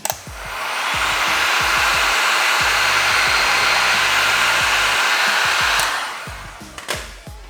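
A heat gun warms vinyl tint on a car side marker light to work out a bubble, with a loud, steady blowing roar that starts abruptly, holds for about five seconds, then cuts off between small handling clicks.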